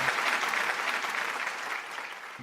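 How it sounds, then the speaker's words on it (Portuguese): Brief applause rings out in memory of the Brazilian educator Anália Franco, a dense burst of clapping that starts at full strength and fades within about two seconds. "Uma salva de palmas em memória à grande pedagoga brasileira"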